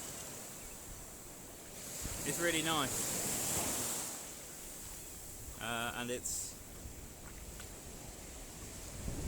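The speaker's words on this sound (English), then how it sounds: "it's quite noisy due to the sound of the sea" Sea surf rolls steadily on Porthcothan Beach in Cornwall, a broad continuous wash that swells and eases, heard under a person speaking a few short phrases.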